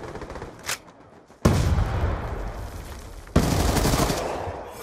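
Loud automatic gunfire from a video game firefight: a single short burst, then two long, dense volleys of rapid shots, each starting abruptly and running for a couple of seconds, with no voices over them.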